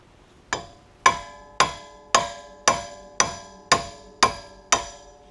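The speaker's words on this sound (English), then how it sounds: "now what we're going to do is just give it a few whacks, and it's going to push the stud out" Nine sharp, ringing hammer strikes on a car wheel stud, knocking it out of the hub. The blows are evenly spaced about half a second apart, close and loud, each decaying quickly with a metallic ring and no talking.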